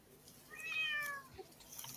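A cat meows once at a distance, a short rising and falling cry over a quiet room with faint background noise.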